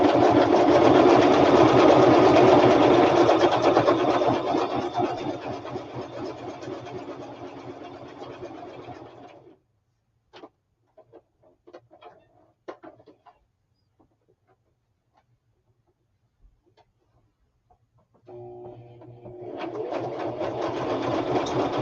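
A sewing machine running its widest zigzag stitch in a loud, steady whir for about nine seconds, then quiet fabric handling with faint clicks, then the motor starting up again.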